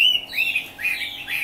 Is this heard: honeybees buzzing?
no